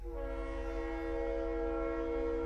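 A train horn sounds in one sustained, steady blast with a rumbling rail background underneath, continuous and close for the whole moment.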